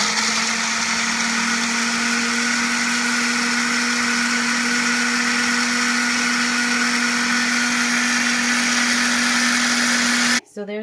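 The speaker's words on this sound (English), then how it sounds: "we're gonna puree that all up and get a nice smoothie" A blender purees strawberry, pineapple and kiwi with water, lemon juice and honey into a smoothie, a loud steady motor whir running for about ten seconds before cutting off abruptly.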